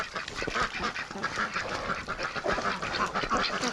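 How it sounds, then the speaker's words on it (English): Pekin ducks and drakes quacking close by in a breeding flock in spring, a busy overlapping chorus of raspy quacks throughout, no talking. "Oh, look at the drakes."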